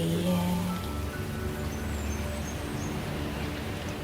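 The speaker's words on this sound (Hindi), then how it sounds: "बारिश शुरू हो गई है।" A steady, gentle rain shower hisses evenly and continuously, with faint bird chirps and a low hum in the background and no voices.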